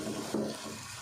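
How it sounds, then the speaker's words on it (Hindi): Water added to masala frying in a pan for aloo moongray curry, giving a soft hiss and gentle splash that settles into a steady faint sizzle. "थोड़ा सा पानी ऐड करेंगे और सारा मसाले को अच्छे से भून लेते हैं।"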